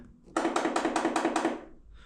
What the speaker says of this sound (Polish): Zawór odmy.